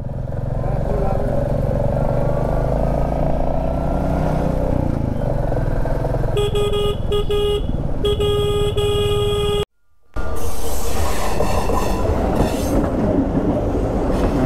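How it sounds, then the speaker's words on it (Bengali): A local train rumbles past a railway crossing near Sevoke Kalibari, loud and close with steady rolling clatter, a sustained horn blast partway through, and a brief cutout near the end. "এদিকে লোকাল ট্রেন এটা।"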